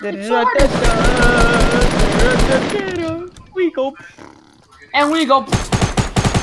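Rapid automatic gunfire in a Fortnite match rattles in a dense burst before fading, with players talking over it and more sharp shots returning near the end.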